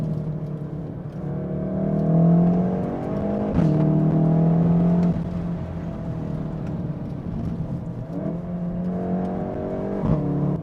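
Volkswagen Golf R engine and exhaust droning steadily from inside the cabin with the rear windows slightly open in manual mode, loud and continuous with brief swells as revs rise and gears change.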